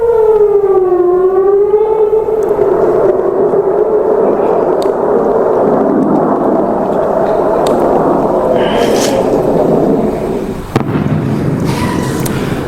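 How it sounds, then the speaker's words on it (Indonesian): An air raid civil defense siren wails across Tel Aviv during an Iranian ballistic missile attack, loud and sustained. Its pitch dips and then holds a steady drone, with a few sharp bangs and crackles breaking through near the end. "Sirine serangan udara berbunyi di penjuru Tel Aviv saat rudal balistik Iran melintas di langit"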